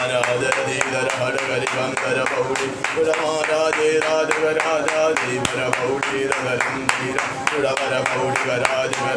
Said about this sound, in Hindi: ताली बजाते हुए प्रभु का आराधना करे